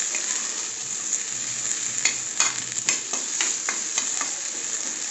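Small shallots temper in hot oil with mustard seeds, a bright steady sizzle with clusters of sharp popping crackles and stirring scrapes in the middle, close up and unaccompanied by voices.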